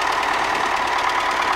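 A tractor engine runs in frosty weather after harvest, a loud, close, steady mechanical clatter with a fast, even knocking rhythm.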